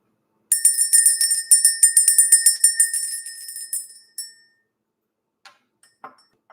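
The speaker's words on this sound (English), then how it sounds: "We're going to ring the bell, clear out this energy" A small bell is rung rapidly in a bright, clear trill for about four seconds, then stops, leaving near silence with a few faint ticks and taps.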